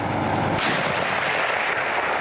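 A single heavy boom of artillery fire bursts out nearby, followed by a rumbling echo that fades slowly.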